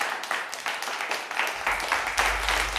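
Applause rings out at a village cooking-contest prize announcement as first prize is awarded for carrot halwa: dense, steady clapping from a crowd that swells louder toward the end, with a low rumble underneath.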